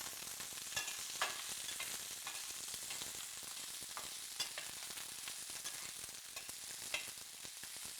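Kale sautéing in a pan with a steady, bright sizzle, while a spatula scrapes and stirs in scattered clicks and scuffs throughout.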